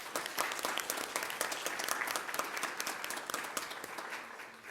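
Attendees at a Peoria Unified school governing board meeting give a steady round of applause, with many crisp individual claps in a moderate-sized room that taper off slightly at the end.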